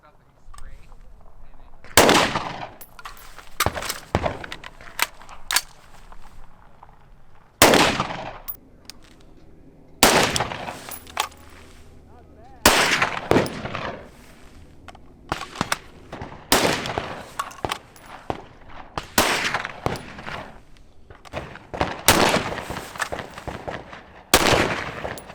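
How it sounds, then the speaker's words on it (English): Pistol and rifle gunfire during transition drills on a range, with loud, sharp shots fired singly and in quick pairs at irregular intervals, a steady ambient background between them and no talking. "I am going to go and do some pistol rifle transitions"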